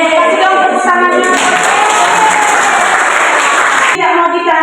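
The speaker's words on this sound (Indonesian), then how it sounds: "terima kasih dong tepuk tangannya" Students at a health education session at a vocational high school applaud loudly, a dense wash of clapping with cheers and shouts mixed in, filling the whole clip before quickly dropping away near the end.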